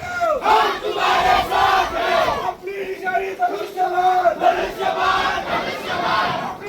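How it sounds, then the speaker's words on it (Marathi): A large crowd of Shiv Sainiks chants slogans in unison at a corner campaign rally held in heavy rain in Kharwad, Kalamnuri taluka, Hingoli. The massed voices are loud and close, rising and falling in rhythmic waves. "यावेळी भर पावसात शिवसैनिकांनी मोठी गर्दी केली होती"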